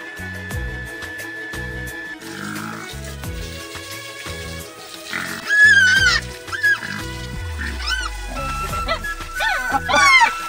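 Pigs in a farm pen in Assam grunt in a rhythmic, low series, broken by high squeals toward the end, close and moderately loud over steady background noise.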